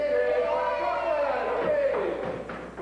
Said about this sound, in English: let's hear a big cheer for the chocolate pudding